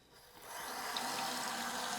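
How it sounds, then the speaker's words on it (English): Running water is poured over a Nitecore NU35 headlamp in a waterproof test, a steady splashing hiss that starts faint and swells within half a second, then holds level and close with no talking. "We're going to do a water test here with running water"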